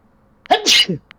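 A single sharp sneeze close by, with a quick intake of breath and an explosive burst, then quiet.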